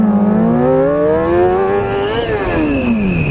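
A motorcycle engine revs hard during a race, a loud close whine that climbs steadily in pitch, dips at a gear change, then climbs again, with no voices.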